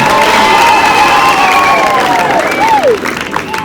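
A crowd at a school bus handover ceremony breaks into loud cheering and applause for Beth Mugo, with shouting voices and whoops rising above the clapping before easing slightly.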